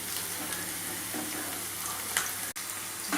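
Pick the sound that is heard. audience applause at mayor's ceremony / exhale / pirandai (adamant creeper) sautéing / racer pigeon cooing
pirandai (adamant creeper) sautéing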